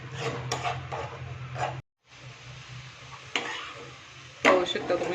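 Homemade tomato ketchup simmering on a low flame while being stirred, soft bubbling under intermittent scraping strokes of a spoon, with a brief full silence midway and a sharper clatter near the end.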